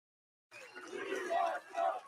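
Rally crowd after a Trump speech bursts into cheering and shouting, a sudden swell of many voices roaring together at a moderate distance and rising in waves.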